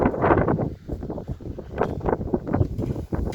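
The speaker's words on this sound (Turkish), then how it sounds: "Dışarıda da acayip rüzgar var." Gusty outdoor wind buffets the microphone in uneven, rumbling bursts, close and moderately loud, with no voices.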